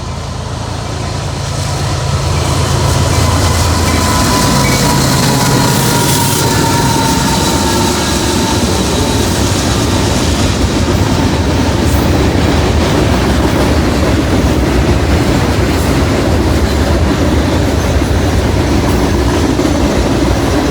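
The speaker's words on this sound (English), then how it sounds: "Slab train heading to the Cleveland Cliffs Steel Mill in Middletown, Ohio." A long freight train carrying steel slabs to a steel mill in Middletown, Ohio rumbles steadily past at close range, with a continuous roar and rattling of wheels on the tracks the whole way through.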